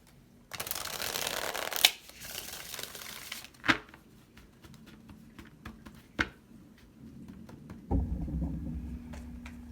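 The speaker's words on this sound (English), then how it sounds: "One more shuffle." Tarot cards shuffled by hand during a pick-a-card love reading: soft riffling and crinkling bursts with a few sharp taps and snaps, close and fairly quiet, with no talk.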